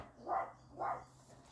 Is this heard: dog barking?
yes